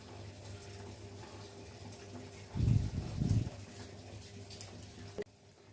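Water is poured into a mixer jar holding grated coconut to make coconut milk in a home kitchen. It makes a short, splashing gush of about a second under a steady background hum, and no one speaks.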